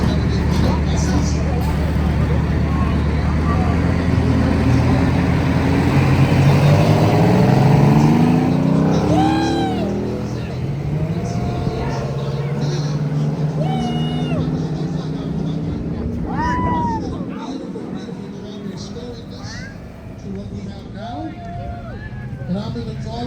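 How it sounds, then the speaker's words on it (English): A vintage Principal Transit show bus departs at the NJ Heritage Bus Festival, its engine rumbling and revving up steadily as it pulls away, with brief voices and other people talking nearby over the fading motor. "here comes another one of our principal transit everyday show buses."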